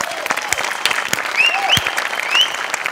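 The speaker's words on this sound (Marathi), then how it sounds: "सगळ्यात आधी सेटिंग वाल्यांसाठी जोरदार टाळ्या." Studio audience at a live Marathi comedy show applauds loudly for the set crew, a dense steady burst of clapping lasting the whole moment, with whistles and cheers rising over it.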